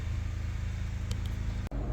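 A Honda Accord Type R engine idles while warming up, a steady low rumble with a brief dip near the end, no voices over it.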